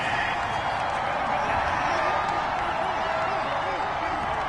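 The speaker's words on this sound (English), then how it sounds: "Well, the crowd doesn't like that." A displeased stadium crowd in a PS4 NFL game, a steady, broad roar of massed voices holding at even loudness throughout, with a faint voice beneath it.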